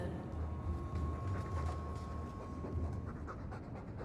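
A dog in the video game Dragon Age 2 pants heavily and noisily in a continuous, close breathy rasp with a faint low hum underneath.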